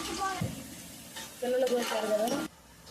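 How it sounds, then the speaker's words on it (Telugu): Onions stirring and sizzling in a large pot for chicken biryani, a steady frying hiss with soft scraping of a spoon, louder in the second half before quieting, with no talk. "తిప్పుకుందాము ఉల్లిపాయ గోల్డ్ కలర్ వచ్చేదాకా తిప్పుకుందాం"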